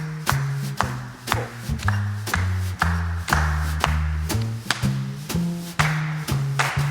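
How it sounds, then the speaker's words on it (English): Hands clapping a rhythm back in a music lesson, sharp evenly spaced claps ringing over sustained low piano notes, close and clear. "Clap this back."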